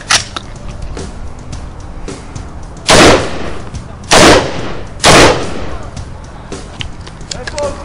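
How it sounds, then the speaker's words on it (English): A Gilboa assault rifle is fired during a stress test: three loud, sharp shots land roughly a second apart over a low background hiss. "So the weapon is loaded and has been fired."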